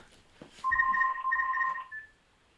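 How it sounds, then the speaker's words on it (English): A telephone rings indoors with two clear electronic trills in a row and a short third burst, fairly near and moderately loud, with faint voice just before. "excuse me one sec. The phone's going."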